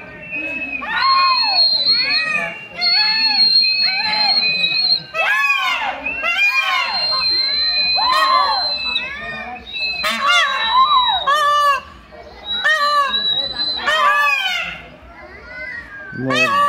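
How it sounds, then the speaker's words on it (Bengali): Peacocks give harsh, loud, repeated wailing calls in bursts, with a crowd and children's voices chattering and shouting around them. "ময়ূর ডাকছে, ময়ূরের ডাকটা কিন্তু ওর সৌন্দর্যের মতো সুন্দর না, কর্কশ মনে হচ্ছে আমার কাছে।"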